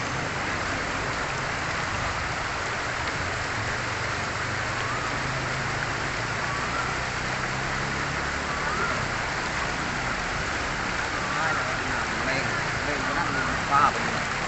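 A strongly flowing stream at a temple in Khiri Wong village, Thailand, rushes in a continuous, dense hiss from start to finish, with no pauses.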